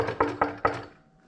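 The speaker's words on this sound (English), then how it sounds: "So if you walk out of the room before you re-enter, you'll want to re-knock." Three firm knocks on a door, evenly spaced and close, in a quiet clinical testing room before a caregiver re-enters, followed by a short hush.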